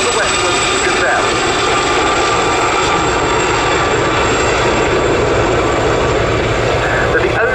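Four Westland Gazelle helicopters of the Gazelle Squadron display team fly in formation at the Cosford Air Show 2024, a loud, steady rotor and turbine roar that holds throughout, with crowd chatter faintly underneath.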